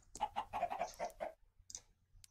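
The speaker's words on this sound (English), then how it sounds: "which is a chicken" A chicken in the Minecraft video game gives a short run of clucks, about seven quick rhythmic bursts close and clear, followed by a pause and a fainter squawk near the end.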